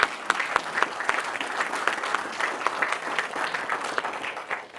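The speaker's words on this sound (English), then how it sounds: "a big round of applause to our departments that participated in that" A round of applause at a groundbreaking ceremony for a new city library, steady dense clapping from a gathered crowd with a few sharper individual claps standing out.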